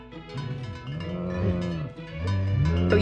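A cow plant in The Sims 4 lets out a drawn-out, tonal, game-style moo that swells and dips across several seconds, loud and alone.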